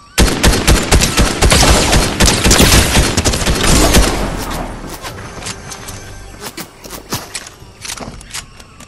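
Rapid gunfire erupts in a Fortnite match, dense overlapping bursts of loud shots in the first half, then thinning to scattered single cracks and short volleys.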